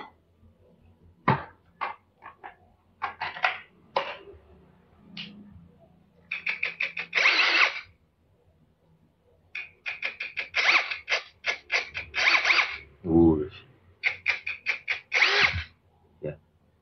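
An XAPR AP12plus cordless drill runs for a speed test in short bursts of whirring, some brief and some held for about a second, separated by quiet gaps and light handling clicks, close to the microphone.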